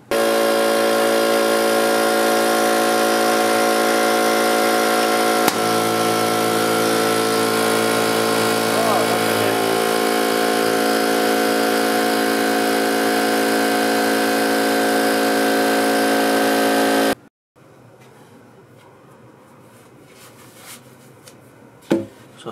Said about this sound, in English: we're gonna try to attempt to fix this DEWALT compressor